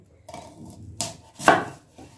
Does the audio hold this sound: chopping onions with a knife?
yes